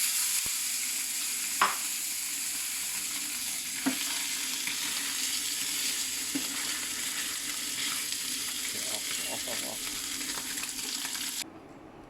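A large conventional sausage fries in a pan with a steady, close sizzle and a few soft clicks of the utensil, then the sizzle drops quieter near the end; no one talks.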